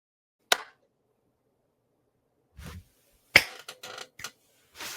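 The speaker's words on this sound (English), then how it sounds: "That was a good clap." A single sharp hand clap snaps out near the start, followed by another crisp clap a few seconds later, with quiet gaps and scattered soft taps and knocks between.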